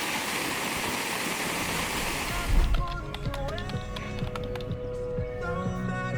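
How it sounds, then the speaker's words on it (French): Wind gusts across a beach on New Zealand's southern coast, a loud rushing roar buffeting the microphone for a few seconds before dropping away to quieter surroundings. "Ah, c'est venteux là."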